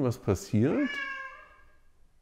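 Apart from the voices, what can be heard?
domestic cat meowing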